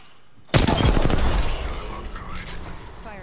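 Gunfire in the video game Apex Legends: a sudden loud burst of rapid shots that starts abruptly and rings on with a long decaying tail and echoing reverb.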